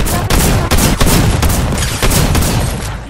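Gunshots in a weapon game credited to a flintlock pistol, though the clip holds a loud, rapid series of sharp reports, about eight to ten shots in three seconds, close and dominant with no talking.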